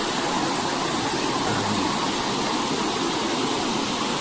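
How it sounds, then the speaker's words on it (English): Steady broadband roar of river water pouring over a weir by a mill on the Rivelin Valley in summer, continuous and loud throughout with no voices. "So here's the weir that serves the next mill going downstream"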